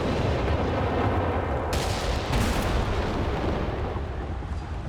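An incendiary artillery barrage in Company of Heroes 3, a dense continuous roar of rumbling impacts and bursts with sharper explosive cracks midway, loud and sustained.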